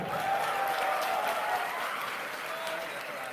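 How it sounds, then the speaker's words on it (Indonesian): Audience applause at a religious gathering welcoming the head of immigration at Soekarno-Hatta airport, a steady dense clapping that holds at even loudness throughout, with crowd noise mixed in. "Tepuk tangan buat Pak Tito."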